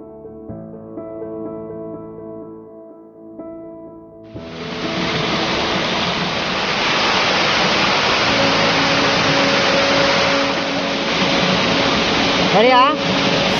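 Raikal waterfall roars as a loud, steady broadband rush of falling water that starts abruptly and holds constant, following a stretch of music and with a brief voice near the end.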